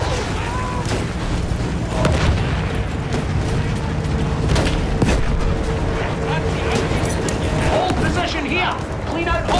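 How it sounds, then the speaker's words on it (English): Battlefield 1 field guns firing artillery across a World War I battlefield: heavy booms and blasts roll under steady gunfire and chaotic battle noise, while voices shout over the din. "Those field guns are shredding their outfit!"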